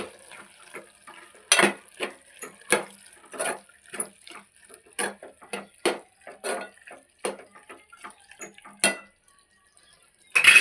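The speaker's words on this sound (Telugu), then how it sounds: "ఇప్పుడు ఇవన్నీ కలిపి" A spoon clinks and scrapes against a pot while tomato and methi curry ingredients and salt are mixed together, making a run of irregular metallic knocks and clanks, close and moderately loud, with no voices.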